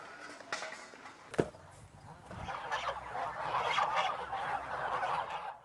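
Geese at a goose farm honk in a dense, noisy chorus, with one sharp bang early on, and the flock grows louder and busier toward the end.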